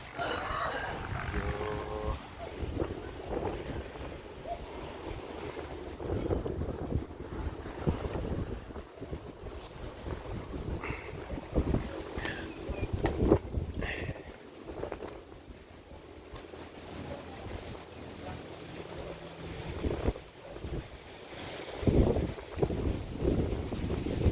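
Strong wind buffets the microphone in loud, uneven gusts, with a steady low rumble like a boat moving over water. No voices.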